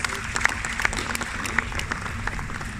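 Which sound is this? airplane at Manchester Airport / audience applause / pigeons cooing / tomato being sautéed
audience applause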